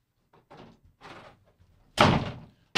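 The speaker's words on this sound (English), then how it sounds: "Sorry, had to close the door." A door is shut indoors: a few soft shuffles and bumps come first, then a single loud, sharp slam close by.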